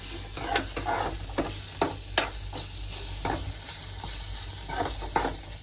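Food seasoned with salt and spice powder frying in a pan, with a continuous sizzle and repeated scraping stirs and taps of a spoon.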